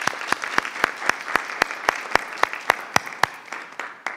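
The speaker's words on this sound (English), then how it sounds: "Let's give Freedom a round of applause" Applause at a Prince William County school board meeting honoring Freedom High School, heard as a steady run of crisp, evenly spaced claps at moderate volume, with no voices.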